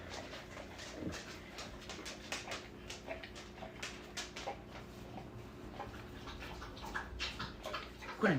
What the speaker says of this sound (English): My dogs are licking the floor.